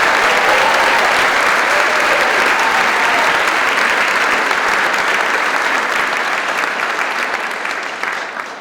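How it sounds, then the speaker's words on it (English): Loud, dense applause from the audience at a high school spring band concert, steady and full throughout before easing slightly at the very end. "That's deserving of a lot of applause."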